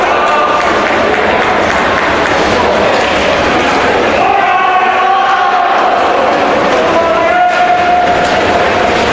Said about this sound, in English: Elliott's teammates cheering him on as he finishes up this 500-yard race